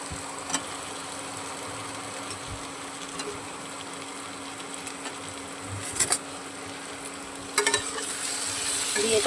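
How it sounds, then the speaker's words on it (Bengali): Fried potatoes with tomato sauce sizzling in a frying pan for a paneer curry, heard as a continuous soft crackle with occasional sharp scrapes of a stirring spoon, close by and without talk. "আলু ভাজাগুলো দিয়ে দেবো।"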